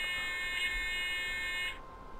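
A steady electronic warning tone from the LZB train protection system sounds in an ICE 3 cab in Train Simulator, a constant multi-tone buzz lasting nearly two seconds before cutting off, heard alone.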